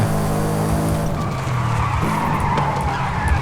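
A Subaru Impreza 22B STI skids through a turn in Forza Horizon 5, a continuous loud tire squeal over the engine note that holds steady for several seconds with no talk.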